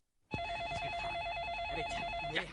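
A telephone rings steadily and loudly in an indoor scene from the TV serial Yes Boss, a warbling electronic ring repeating without pause.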